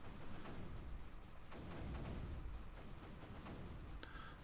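Cannons firing around a perimeter in Creeper World 3 produce a dense, continuous rumble of repeated booms and crackling impacts, with a brief brighter game chime near the end.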